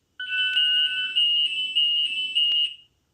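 A shrill electronic alarm, falsely triggered by interference from devices operating around 1,500 hertz, beeps loudly in a few pulsing bursts, with a couple of sharp clicks, then cuts off abruptly.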